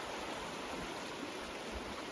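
The Whirlpool River on the Athabasca Pass trail flows with a steady, broadband rushing wash, fairly faint and continuous, with no voices over it.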